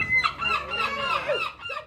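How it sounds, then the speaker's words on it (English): Herring gulls calling by the seaside at Looe, loud, close, overlapping cries and yelps across a couple of seconds, with no talk over them. "Herring gulls are the most common species here in Looe"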